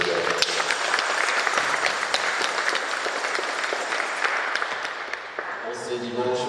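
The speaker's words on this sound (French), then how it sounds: "Acclamons très fort pour le Seigneur." A church congregation applauding at a baptism and first communion service, a dense, sustained clapping from a crowd filling the room, with a voice and music rising near the end.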